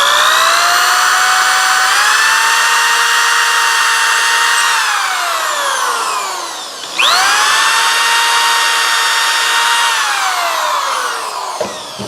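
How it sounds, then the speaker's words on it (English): A power drill whines loudly through two long runs, its pitch rising and falling as it bores a pilot hole into wood, with a brief pause between passes. "So I'm going to drill my pilot hole."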